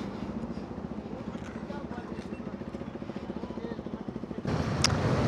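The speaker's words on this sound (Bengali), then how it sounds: "সব বাইকগুলো একসাথে বেরোচ্ছে, বুম বুম। বাবা, এর এক্সজস্টের সাউন্ডটা হেবি সুন্দর।" Several motorcycles setting off together on a group ride from a restaurant near Maithon, a throbbing exhaust rumble that grows louder toward the end, with a person talking over it.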